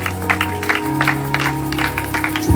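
Congregation at a church assembly applauding together, a steady wash of clapping with scattered louder claps, sustained evenly throughout at moderate loudness.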